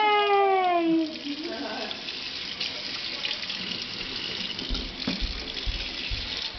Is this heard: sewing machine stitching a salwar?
no